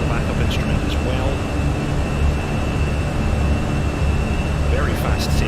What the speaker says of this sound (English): Very fast takeoff today.